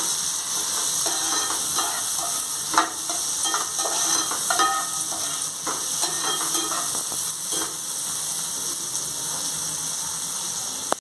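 Tomatoes and crystal salt are stirred into a chicken curry pan, which sizzles loudly and steadily with hissing oil and spoon scrapes throughout, and no voices.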